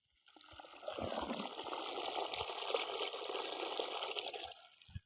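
Irrigation water flows into an onion field as a steady, faint, gushing trickle that rises in, holds for several seconds, then fades with a soft thump at the end.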